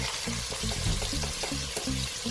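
Onions sizzle steadily in hot coconut oil with rock salt added, a continuous close frying crackle with faint bursts of stirring, no talk.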